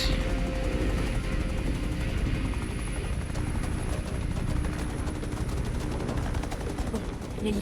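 Helicopter in a video game, a continuous loud thrumming rotor chop with a rapid rhythmic beat filling the whole stretch, steady and close overhead.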